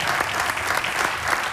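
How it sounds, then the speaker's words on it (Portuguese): Studio audience applause on a Portuguese late-night comedy talk show, a dense, steady wash of clapping filling the short moment at close, even loudness. "Isto não merece um aplauso? Claro que sim!"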